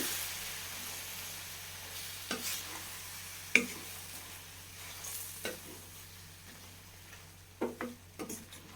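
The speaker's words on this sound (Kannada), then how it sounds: "ಫಸ್ಟು ಮಸಾಲೆ ಜೊತೆ ಹೀರೆಕಾಯಿನ ಈ ರೀತಿ ಮಿಕ್ಸ್ ಮಾಡ್ಕೋಬೇಕು" Ridge gourd being stirred into ground masala in a pan, giving a few scattered scraping clacks and spoon knocks over a soft, steady sizzle, with no talking.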